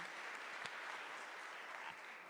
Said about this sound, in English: a round of applause for the Vice President